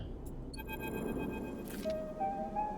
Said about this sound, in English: Terminal chirps.